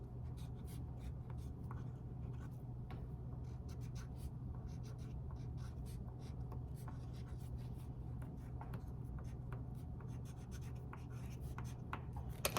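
A pen scratches steadily across paper while a cartoon of Wario is drawn and decorated, giving faint, continuous rubbing strokes with small sharp ticks throughout, no talking.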